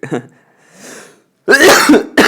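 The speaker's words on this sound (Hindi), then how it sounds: "आज कुछ ज़्यादा खांसी आ रही है" A single short cough, a brief pause, then someone starts talking.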